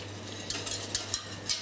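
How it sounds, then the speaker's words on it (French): A pan gives off a soft sizzle after juice is added to stop the cooking, with faint stirring clicks of a utensil over steady background hiss. "On a cette petite friture là, qui commence à cuire."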